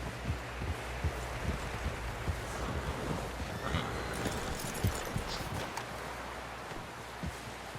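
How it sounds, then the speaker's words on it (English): A horse in the Red Dead Redemption 2 video game trots with steady clip-clopping hooves and gives an occasional whinny, set against a soft outdoor ambience with rustling and flowing water, with no one speaking. "Someone help John down off this horse."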